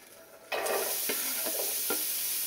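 Olive oil bursts into a loud, steady sizzle in a frying pan, with a few sharp clinks and stirring scrapes breaking through the continuous hiss.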